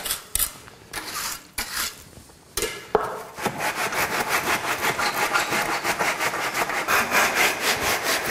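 Straightedge screed drawn steadily across a freshly poured concrete slab laid over an existing floor, giving a continuous rhythmic scraping rasp that follows a few separate scrapes and knocks, close and loud with no talk.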